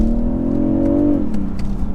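Artificial engine sound piped into the cabin of a BMW 840i Gran Coupe while driving, a smooth humming tone that rises slightly then settles lower, steady over road noise with no talking.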